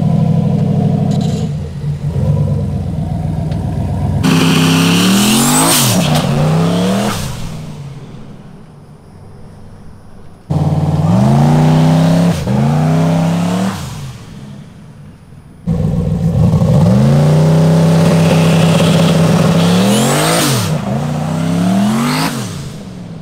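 A car engine revving hard in repeated surges, pitch sweeping up and down as the tires spin, loud and close, with brief lulls between bursts.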